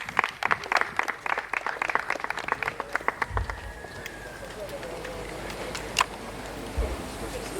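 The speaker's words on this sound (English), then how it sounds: "Another round of applause, please." Audience applause at the Team Ghana send-off party, a moderate patter of clapping that fades out over several seconds, with a few low thumps partway through.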